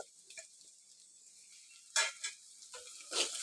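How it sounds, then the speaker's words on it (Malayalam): Finely chopped carrot stirred and fried in a pan for Kerala-style upma, with faint sizzling and a few sharp scrapes and clinks of a spoon against the pan coming in short bursts. "നല്ലവണ്ണം ഇളക്കി കൊടുക്കുക."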